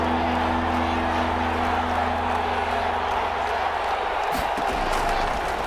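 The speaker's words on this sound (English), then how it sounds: "the crowd getting into it as we come up on a big 3rd down" A football stadium crowd at a Raiders vs Broncos game keeps up a loud, continuous roar of cheering ahead of a big third down. The dense noise holds steady with no breaks throughout.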